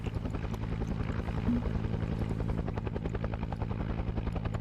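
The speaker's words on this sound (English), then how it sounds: "Why are you still making chopper sounds?" A helicopter in the Arma 3 video game gives off a steady, loud rotor thrum with a rapid chopping pulse that runs unbroken through the whole stretch.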